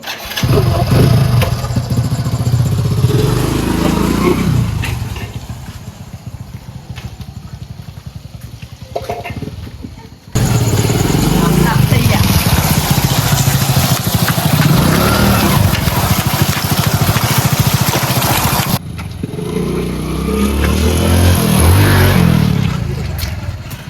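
A motorcycle engine starts and revs loudly up close, rising and falling through several throttle surges. The engine cuts out abruptly twice and comes back, with no clear speech over the noise.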